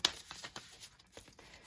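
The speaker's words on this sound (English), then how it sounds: "Just kind of shuffle till it feels right." Light Seers tarot cards are shuffled by hand in a soft, quiet sequence of papery riffles and light flicks, close and faint, with no talking.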